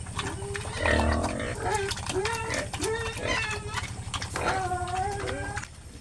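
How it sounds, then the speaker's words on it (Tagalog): Pet pigs chewing on banana stalks fed to them on a farm, with busy munching and grunting noises over steady low rumbling background, while people talk throughout. "Gustong gusto ng mga alagang baboy natin ang ibinigay natin na saha ng saging."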